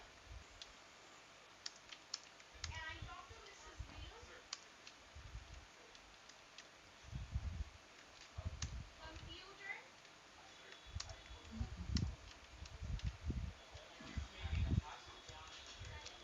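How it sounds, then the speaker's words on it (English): Soft, irregular keyboard clicks from typing at a computer, fairly faint, with low murmuring voices underneath at times. "But we can now see and hear him typing."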